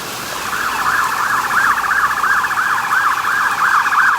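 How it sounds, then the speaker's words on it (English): Emergency vehicle siren wailing steadily in a rainy Ozark setting, a repeated rising-and-falling tone that stays loud and close throughout with rain noise beneath and no talking. "Oh, I hear sirens."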